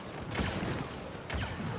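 Gunfire in the Star Wars Battlefront II video game comes as two quick bursts of blaster fire, one near the start and one near the end, over dense continuous battle noise.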